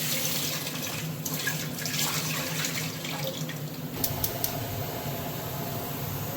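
Tap water runs steadily over cut Kadaknath black chicken pieces being washed for curry, a continuous close splashing hiss that shifts slightly partway through, with a few light clinks near the end and no talking.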